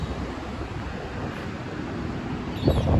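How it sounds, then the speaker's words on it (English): Steady wind buffeting the microphone on a hotel balcony overlooking the ocean, with a broad roar rising into a gust near the end, no voices. "Very windy though."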